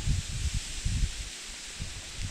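Wind blows through reeds by a pond during float fishing for crucian carp, coming as low, rumbling gusts and rustling that pulse unevenly over a steady airy hiss.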